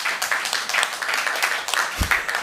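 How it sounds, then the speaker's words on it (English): Applause at a city council meeting for a presenter, a modest scatter of hand claps with audible individual claps pulsing unevenly, moderately close. "Give him a round of applause"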